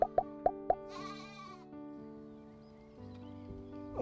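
A single wavering bleat from a cashmere goat on a New Zealand farm rises briefly after a few quick knocking plops, with low sustained tones underneath.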